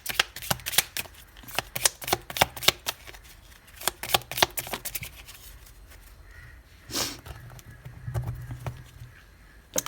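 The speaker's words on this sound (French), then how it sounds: "ce qu'on va faire maintenant, c'est qu'on va prendre une petite carte de cet oracle" A deck of oracle cards is shuffled in a rapid run of crisp riffling flicks and snaps, close and fairly loud, thinning out to softer handling sounds toward the end.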